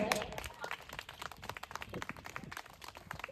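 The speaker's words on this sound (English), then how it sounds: "Should we all clap for them once again?" An audience at an Independence Day school event claps for students dressed as freedom fighters, a dense, fairly quiet patter of many hands heard from some distance.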